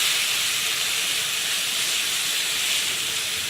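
Chopped onions sautéing in oil over a high flame give off a loud, steady, hissing sizzle that holds evenly from start to finish.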